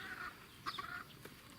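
A rooster being bathed and lathered outdoors gives a few short clucking calls, fairly close and faint, with gaps of quiet between them.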